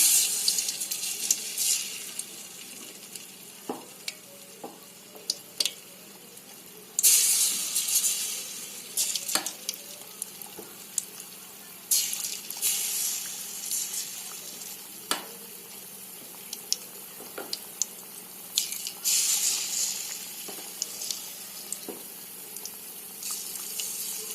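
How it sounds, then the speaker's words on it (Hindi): Potato and onion pakoras deep-fry in hot ghee over a low-medium flame, a soft continuous sizzle with occasional louder bursts and pops, fairly faint and without talking. "लो मीडियम फ्लेम पर हम पकौड़ों को फ्राई करेंगे।"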